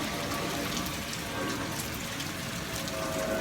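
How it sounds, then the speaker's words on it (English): Steady rain falls outdoors as a constant, even hiss of drops on surfaces, with no pauses. "Rain's nice."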